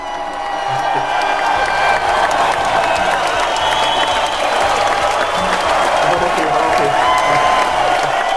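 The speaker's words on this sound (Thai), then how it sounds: "เสียงเชียร์ดังมากเลยนะครับ" A crowd cheering and applauding, a steady dense roar of clapping and whoops that holds at an even level throughout.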